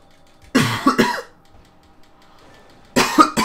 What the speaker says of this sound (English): this cough kinda rough on me